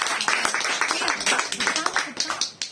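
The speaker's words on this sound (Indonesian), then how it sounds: "Bisa berikan tepuk tangan dulu buat Tuhan Yesus" A church congregation clapping in worship, scattered hand claps in quick uneven bursts, fairly near, with voices talking and calling out over them.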